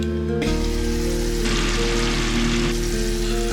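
Mixed vegetables cooking in gravy under a large knob of butter give a loud, steady close-up sizzle and bubbling hiss that runs without a break.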